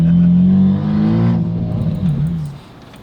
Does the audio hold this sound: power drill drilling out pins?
no